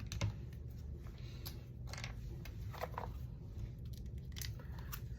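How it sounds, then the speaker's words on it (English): Pages being cut out of a regular book along the border by the cover, heard as a few soft, crisp snips and rustles over a low, steady room hum. "Gonna cut here because I want this to show when I reuse this cover again."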